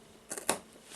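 Scissors snip through a braided bracelet cord in two or three quick, faint, close clicks, followed by quiet.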